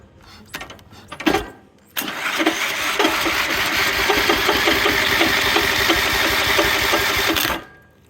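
A small gasoline engine on a homemade treadmill-powered wheelbarrow cranks briefly, then catches and runs steadily at a loud, rapid idle for several seconds before cutting off abruptly.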